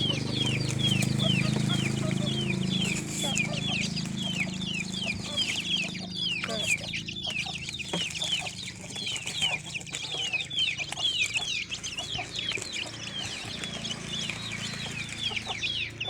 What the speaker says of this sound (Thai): ไก่น้อยของเรานะคะ